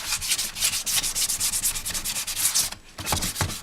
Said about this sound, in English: I'm going to take a soft block and go over all the primer.